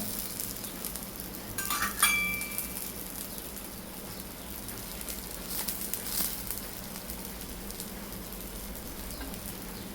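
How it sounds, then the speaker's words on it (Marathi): Oil poured around a mixed-flour dhirde pancake in a pan sets off a soft, continuous sizzle, with a brief clink and splash early on, quiet and close with no talking. "आता आपण थोडंसं साईडने असं तेल सोडूया थोडंसं मध्ये सोडूया"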